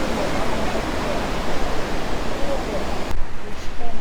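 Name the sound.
waves at Pondicherry Marina beach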